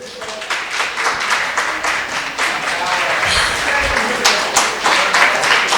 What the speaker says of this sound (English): A round of applause for Pearl.